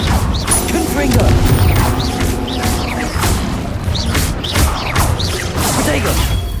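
Spell blasts from Incendio and Confringo cast in Hogwarts Legacy, a dense run of loud booming, crashing impacts and whooshes over constant combat noise, with a voice calling out over them.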